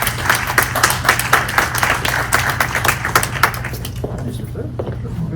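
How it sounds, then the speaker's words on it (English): Audience applauding at a town hall as a speaker comes up to the podium, a burst of distinct claps from a modest group that thins out and fades toward the end, with some talking mixed in. "We can give him a proper round of applause"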